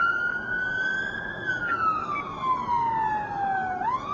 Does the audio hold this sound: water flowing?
no